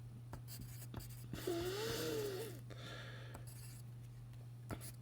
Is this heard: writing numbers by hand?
yes